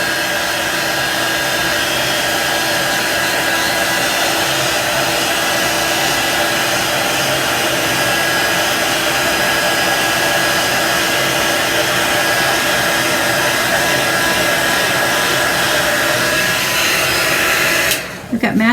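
A hair dryer drying a Chalk Couture Halloween sign blows a steady, loud whooshing hum at close range. It runs unbroken for about eighteen seconds, then cuts off abruptly at the end.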